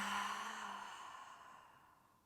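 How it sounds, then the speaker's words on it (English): A slow exhale out through the mouth during a calm yoga cool-down, soft and close, a single long breath fading gradually to near silence. "Big inhale up through the nose. Exhale out the mouth."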